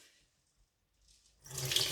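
Rice rinse water is poured away into a kitchen sink, a short splashing gush that starts abruptly after near silence and runs to the end.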